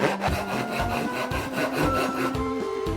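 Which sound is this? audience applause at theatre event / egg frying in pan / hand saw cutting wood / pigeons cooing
hand saw cutting wood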